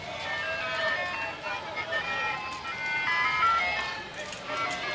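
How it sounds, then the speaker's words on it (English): A tinkling ice cream truck jingle plays at a Little League Baseball World Series game, steady and fairly faint under crowd noise and a commentator's talk throughout. "I got the ice cream truck noise now going"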